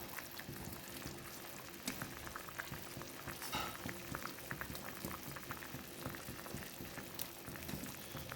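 Fish curry gravy at a full boil in a pot, a soft, continuous bubbling and popping that stays steady and fairly faint throughout.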